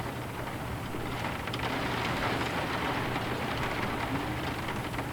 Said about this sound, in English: I'm looking forward to getting back to my cabin, getting dry, and cozying up to a book as the rain patters on the roof.